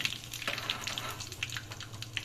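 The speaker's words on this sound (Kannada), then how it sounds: "ಇದೀಗ ನೋಡಿ ಸಿಡಿತಾ ಇದೆ ಸಾಸಿವೆ." Mustard seeds splutter in hot oil for a Mangalore-style cucumber sambar tempering, sharp little pops and crackles scattered irregularly over a low frying hiss, close and moderately quiet.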